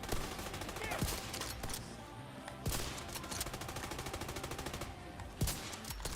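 Rapid, steady automatic gunfire from The Division 2 rattles close and continuously, punctuated by a few sharper single cracks, with a voice briefly talking.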